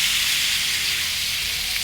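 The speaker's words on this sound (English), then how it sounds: "And that sizzle's what we wanna hear." Beef petite sirloin sears in a riveted cast iron pan, giving a steady, close, continuous sizzle of frying meat that holds evenly throughout with no talking.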